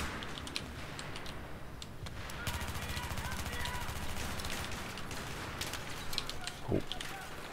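An Mtar-21 rifle firing in Battlefield 3: rapid, evenly spaced automatic shots in a sustained burst, mixed with clicky ticking, with a voice talking faintly underneath.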